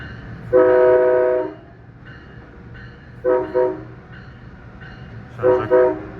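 A Metra Electric train sounds its K3LA horn in three blasts, one long and then two shorter doubled honks, loud and clear over a low rumble of the moving train.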